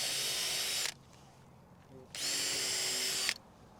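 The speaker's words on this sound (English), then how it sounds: "whoever's got the other drill with the fasteners" Power drill driving fasteners into a wooden Smart Stacks compost bin, two long high-pitched whirring bursts separated by a short quiet pause, close and fairly loud.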